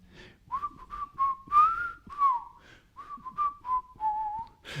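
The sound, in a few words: whistled imitation of a bird singing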